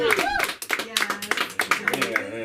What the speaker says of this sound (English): I don't want the claps.